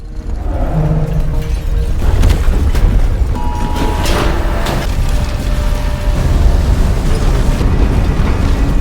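A massive earthquake in a film, with a loud, sustained low rumble and dense crashing debris, scattered cracks and metallic clatter as structures collapse, the roar continuing unbroken from start to end.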